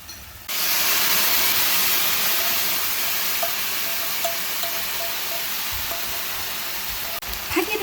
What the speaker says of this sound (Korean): 여기에 이제 끓인 소스를 부어주도록 할게요.